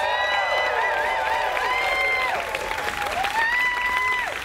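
A crowd at the 2015 Western Canada Summer Games countdown clock launch applauds and cheers together, with sustained clapping and high whistles and shouts rising over the noise for a few seconds.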